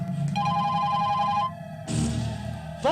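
A telephone rings with repeated electronic tones, a steady pattern pausing briefly before resuming, heard close and fairly clear over faint background noise.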